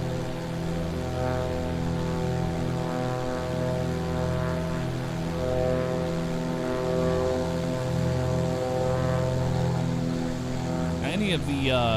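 A Bonanza propeller airplane drones steadily through a flight simulator game, its even, loud engine tone holding throughout, with a brief sweeping change near the end.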